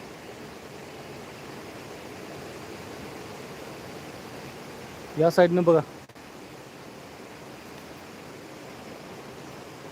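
Water rushes steadily over a dam on the Manjara river near Dhanegaon, a constant broadband roar heard throughout, briefly interrupted by someone speaking a few words midway.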